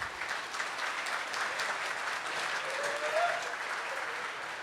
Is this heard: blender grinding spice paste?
no